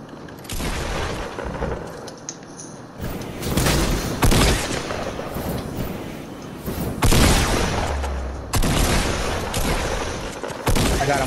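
Sniper rifle shots in Fortnite, the video game, boom out as loud, heavy cracks spaced a few seconds apart, with rumbling tails and other game noise between them.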